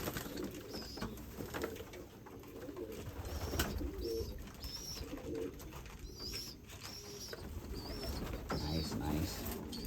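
Pigeons bathing outdoors coo repeatedly in soft, rolling calls amid light splashing and a constant background hum, with occasional quiet talk nearby.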